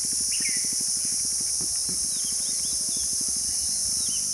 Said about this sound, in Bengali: মান্দারণে ঘন জঙ্গলের মধ্যে কান পাতলেই শোনা যায় অজস্র ঝিঝি পোকার শব্দ এবং পাখির কলতান